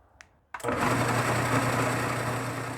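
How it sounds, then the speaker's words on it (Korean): A click, then a blender motor starts up with a loud, steady whirring grind that continues without letup, finely grinding sautéed pineapple sauce ingredients. "반은 이거를 믹서기에다 곱게 갈아줄 거예요"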